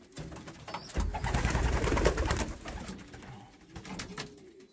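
Pigeons coo close by in soft, repeated low throaty calls, with some rustling of wings and movement around them.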